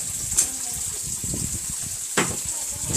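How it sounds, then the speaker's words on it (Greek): Water gushes and splashes steadily from a broken faucet, with a couple of sharp bursts and clatters over the flow and no talk. "Χάλασε μια βρύση και ήρθε όλο το νερό πάνω μας."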